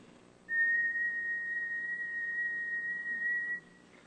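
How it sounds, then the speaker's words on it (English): A person whistles a pure tone of about 2 kHz straight into a microphone, holding one long, steady, clear note for about three seconds before it stops. "let me see if I can pucker up well enough to whistle into the microphone and give you more or less a pure"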